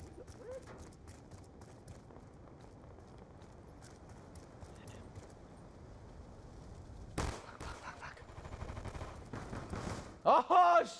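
Gunfire in Call of Duty Black Ops 2, with a sharp burst of shots near the end following a quieter stretch of game ambience and movement.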